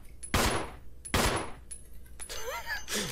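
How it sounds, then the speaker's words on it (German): Two loud, sharp gunshots from Resident Evil HD Remaster ring out close together near the start, each with a short decaying tail, followed by quieter in-game sounds. "Ich habe 3 Schüsse verbraucht."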